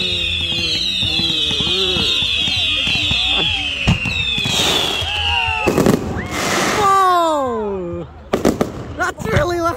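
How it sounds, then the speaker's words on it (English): New Year's fireworks burst overhead in a series of loud booms and crackling pops, while excited people shout and whoop close by throughout. "I'm loving the fireworks!"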